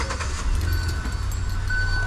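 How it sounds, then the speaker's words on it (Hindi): The four-cylinder engine of a 2022 Hyundai Aura CNG car runs with a steady low hum and a faint hiss, close up, with no voices. "इंजन स्टार्ट करके दिखाइए भाई"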